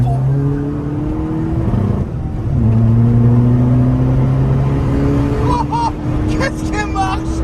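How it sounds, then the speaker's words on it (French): Small go-kart engine revving hard and driving, a loud buzzing motor climbing and dropping in pitch close by, with excited voices talking over it. "Oh la vache, qu'est-ce qu'elle marche la bagnole"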